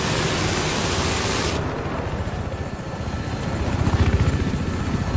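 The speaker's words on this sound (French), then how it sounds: "Avion." Military jet flying overhead in the video game Battlefield 3, a loud roaring whoosh that cuts off sharply, then dull engine rumble and distant booms.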